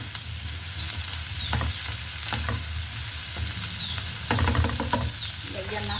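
Whole round tomatoes sizzle and fry in a pan, a steady hiss broken by several clattering stirs of a utensil, close and fairly loud.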